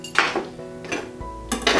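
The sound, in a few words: large stock pot or saucepan being handled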